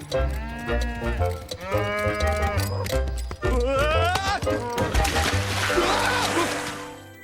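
Cattle and sheep lowing and bleating in several calls, with a person's voice mixed in and some splashing near the end.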